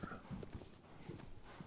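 A horse in the video game Shadow of the Colossus clip-clops along, its hooves striking in a quick, faint, even rhythm of soft thuds.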